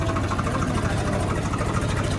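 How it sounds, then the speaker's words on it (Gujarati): A tractor engine chugs steadily on the drive to the farm, a loud, even, throbbing rumble throughout with no talk. "તો અમે નીકળી ગયા છે ટ્રેક્ટર લઈને ખેતર જવા માટે."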